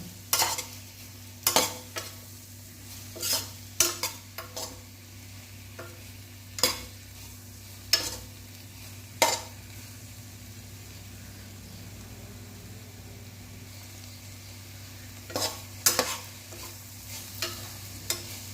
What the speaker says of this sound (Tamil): நல்லா வதக்கி நல்லா கிளறி